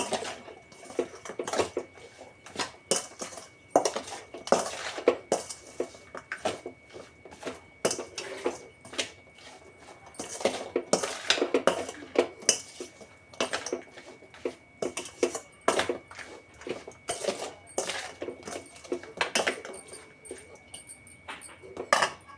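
Ivy gourd chutney being mixed with squeezed lemon juice, close-up scraping, clinking and stirring in irregular bursts with no talking.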